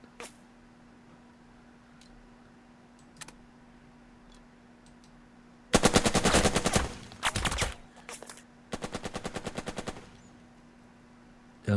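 In the video game Burden of Command, close, loud bursts of rapid machine-gun fire rattle out in three clusters after a quiet stretch. Faint scattered single shots and ticks can be heard before the bursts.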